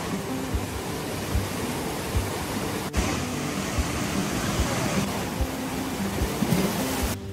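Sea waves wash steadily onto Tajpur beach in a constant broad roar of surf, with no voices.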